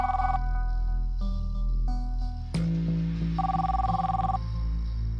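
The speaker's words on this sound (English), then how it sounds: "Then I heard the phone ring." A telephone rings with a steady electronic trill, repeating in bursts and continuing loudly with no one talking, in a tense setting where officers are present.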